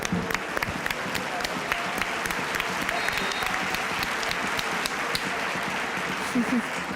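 Steady applause from a large football stadium crowd at a La Liga match between Valladolid and FC Barcelona, greeting a player with continuous dense clapping and a low crowd roar that fills the whole stretch.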